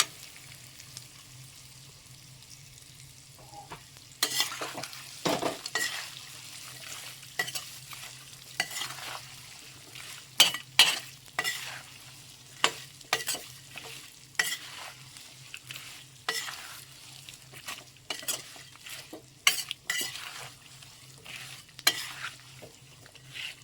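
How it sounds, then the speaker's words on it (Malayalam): Tuna fish pickle masala being stirred in a pan, a steady stream of sharp spatula scrapes and knocks in irregular bursts over a quiet low sizzle, heard close. "ശേഷം ഇതൊന്ന് നന്നായിട്ട് ഇളക്കി കൊടുക്കണം"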